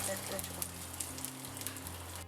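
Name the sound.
cashews and raisins frying in ghee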